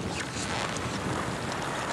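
Steady wind roars and rushes broadband across the microphone without pause, a continuous outdoor whoosh with no voices.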